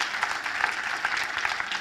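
Church congregation applauding during a sermon, steady crowd clapping at moderate distance with scattered sharper claps standing out.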